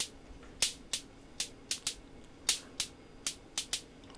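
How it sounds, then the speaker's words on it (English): Sharp, dry clicks from a Korg Volca Drum synthesizer play in a sequenced pattern, a dozen or so crisp transients spaced irregularly over a quiet background. "Just sort of a click, and then the next part."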